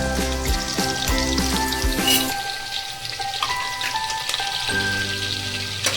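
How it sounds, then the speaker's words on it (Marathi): Chopped green chillies frying in hot oil for an alu (colocasia leaf) curry, giving a steady, close sizzle and crackle throughout, with a few soft clinks and no talking. "तेल ऍड करायचं। आता ऍड करतोय आपण हिरव्या मिरच्या चिरलेल्या।"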